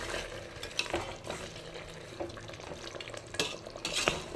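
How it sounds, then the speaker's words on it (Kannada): Chicken fries in a pan with salt and turmeric, a soft, low-level sizzle broken by repeated scraping and stirring knocks from a utensil against the pan. "ಉಪ್ಪು ಮತ್ತು ಅರಿಶಿನ ಹಾಕ್ಕೊಂಡು ಚೆನ್ನಾಗಿ ಫ್ರೈ ಮಾಡ್ಕೊಳ್ಳಿ."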